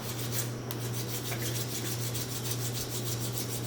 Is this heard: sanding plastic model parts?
yes